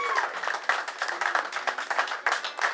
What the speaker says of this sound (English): let's have a round of applause for them and all the staff